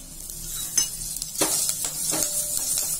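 Mustard seeds, fenugreek, cumin, turmeric, asafoetida and curry leaves fry in hot oil in a clay cooking pot, giving a steady close sizzle with a few stirring scrapes and light clinks, and no talking.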